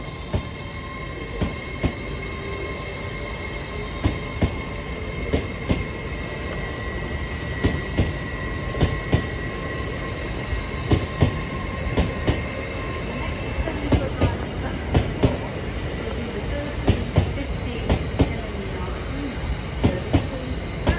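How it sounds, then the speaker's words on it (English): Train passing through Doncaster station, a continuous close rumble with regular wheel clicks over rail joints and faint squeals, a station announcement voice speaking over it. "This train has 5 coaches."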